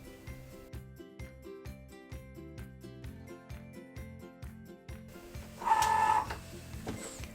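A Cricut Joy cutting machine works through a design, its motor whirring in short rhythmic bursts with a tonal hum and a louder buzzing stretch near the end, close by and without speech.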